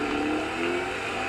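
A rally car engine in Dirt 4 holds a steady mid-pitched drone as the damaged car, with its radiator hurt, drives on under light throttle. It is loud and even throughout, with no one talking.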